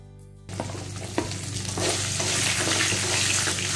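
Garlic cloves sauté in hot oil in a pan for curry leaf chutney. A sudden burst of sizzling starts after a quiet moment and becomes a dense, steady crackle, with a few stirring knocks.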